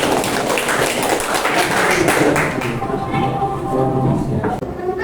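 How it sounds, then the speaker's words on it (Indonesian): A classroom claps for students after their group presentations. A dense burst of applause fills the first half and then thins out as a voice starts talking. "Tepuk tangan untuk semuanya."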